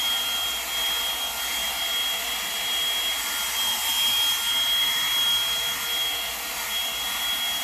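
A Revlon One-Step Volumizing hair dryer running continuously while hair is styled, giving a loud, even, close-up whoosh and motor drone that holds steady without pauses and with no talking.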